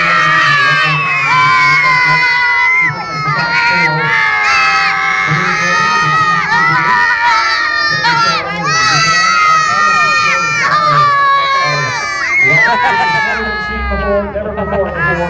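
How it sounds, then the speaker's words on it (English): A large crowd at a balloon festival screams and cheers loudly and continuously, high excited voices overlapping throughout, with a brief dip partway before rising again. "Guys, come on, scream! Scream!"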